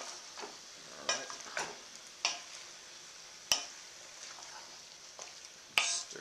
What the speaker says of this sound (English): Stir this in.